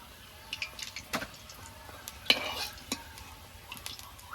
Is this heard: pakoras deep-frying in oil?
yes